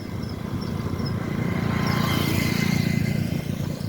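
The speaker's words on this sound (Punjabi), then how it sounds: "ਆ ਮੋਟਰਸਾਈਕਲ ਜਾ ਰਹੇ" A steady engine drone that swells slightly as motorcycles pass nearby on a village road beside farm fields in Gurthari, Mansa district, Punjab, with no pauses.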